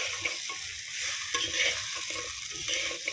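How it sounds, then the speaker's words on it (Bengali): Vegetables sautéed in a pan, with fried bits added, sizzling steadily while a utensil scrapes and stirs in irregular strokes, close and fairly quiet. "একটু ধরে কষিয়ে নিই।"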